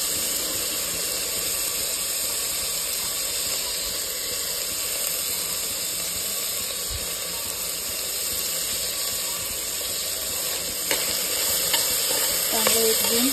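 Potato, cauliflower and other vegetables stir-fry in a hot pan for spiced rice, a steady sizzling hiss with scraping stirs running throughout at close range, no voices.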